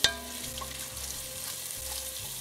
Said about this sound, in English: in goes the garlic and the ginger. Again, give that a stir around.